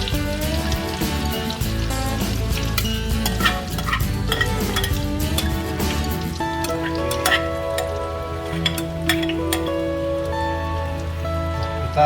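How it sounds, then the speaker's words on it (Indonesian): Crab fu yung hai batter frying in hot oil, a steady dense crackling sizzle that runs continuously and loud at close range with no talk over it. "Kita goreng lagi yang ini"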